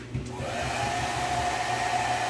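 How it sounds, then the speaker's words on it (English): A hair dryer blows steadily up close, drying freshly vapor-blasted aluminum carburetor parts from an XJ650 Turbo, a continuous whooshing airflow with a faint high whine, heard alone after a brief start. "last and final stage, hair dryer."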